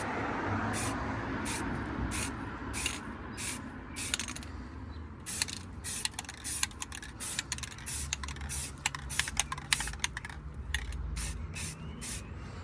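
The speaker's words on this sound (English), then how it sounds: "Guys, so we're gonna spray our first coat." Repeated short bursts of high heat primer from an aerosol spray can, laying a first coat in start-stop streaks on cheap Subaru emblems, each hiss sharp and close amid faint mechanical clicks, with no voices.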